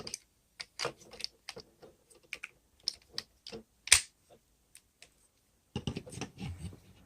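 Plastic wing pieces of a Transformers Siege Leader Class Shockwave figure clicking onto the arm pegs: a series of sharp, close, separate clicks and taps with short gaps between them, and a denser cluster of handling clicks at the end.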